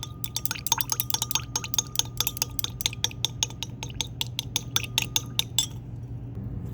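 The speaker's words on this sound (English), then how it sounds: "We're going to have to use our glass stirring rod for this step." A glass stirring rod clinks rapidly against a container while mixing a suppository mixture, a fast, steady series of sharp taps over a low hum, stopping near the end.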